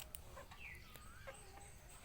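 A decoy red junglefowl rooster clucks and calls in short bursts, fairly close, against a quiet outdoor background with scattered high chirps from other birds.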